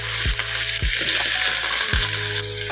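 Continuous loud sizzling and crackling of cumin seeds and cinnamon frying in hot oil, close up, with a few low knocks of a utensil against the pan.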